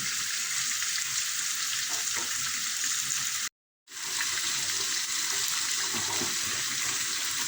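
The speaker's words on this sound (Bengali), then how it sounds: "মাছটা ঘুরিয়ে ঘুরিয়ে ভাজতে হবে।" Fish sizzles in a pan with a steady, fairly quiet frying hiss, near and uninterrupted apart from one brief total dropout partway through, with no voices.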